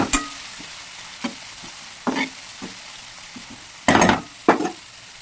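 Chopped gourd fries with ginger-garlic paste and salt in a pan, a low steady sizzle punctuated by several separate spatula scrapes and stirring bursts, two of them louder toward the end.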